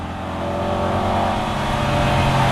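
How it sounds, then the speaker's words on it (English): A race Mini car engine roars loudly and steadily at high revs, a continuous buzzing drone with no pauses. "That's a race mini, that is."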